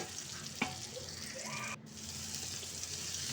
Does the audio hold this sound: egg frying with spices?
yes